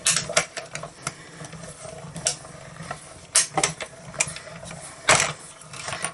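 A lightweight manual die-cutting machine is cranked by hand, giving a close series of uneven clicks, clacks and mechanical rattles with a soft grinding underneath, with no talking.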